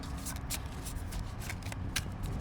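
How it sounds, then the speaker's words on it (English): Tarot cards being shuffled by hand, quiet and close, with a series of soft riffling bursts and flicks at an irregular pace. "So I'm going to shuffle the cards"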